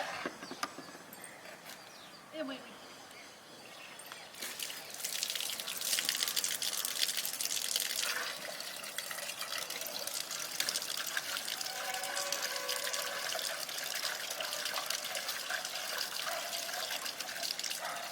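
Water gushes and splashes in steady, close pouring while cleaned fish are rinsed, starting after a few quieter seconds with faint drips and then running continuously to the end.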